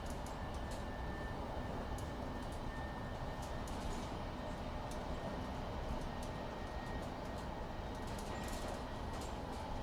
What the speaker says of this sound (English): You got the creaks and rattles in the cab, creaks and rattles of the train. You hear the motor noise.